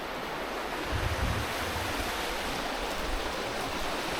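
A river rushes steadily at close range, a dense, unbroken wash of water noise with no voices, heard along a leafy walking path.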